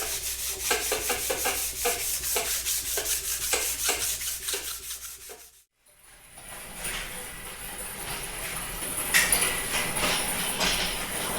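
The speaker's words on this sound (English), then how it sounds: "you last saw me sanding on the top of the PTO shield" Rust pits being sanded by hand on a Farmall tractor PTO shield, close, rhythmic scraping strokes that pause briefly, then continue as a steadier rasping hiss, with no talk.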